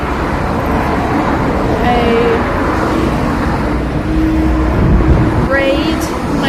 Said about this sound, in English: Oh my god, the traffic's so loud.